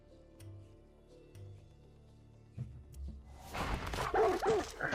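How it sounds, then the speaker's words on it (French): A dog barks in Far Cry 6, a few close, loud barks that begin partway through after quiet ticking game ambience. "Boomer, il est où là, mon chien?"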